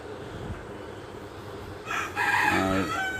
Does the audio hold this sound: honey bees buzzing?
no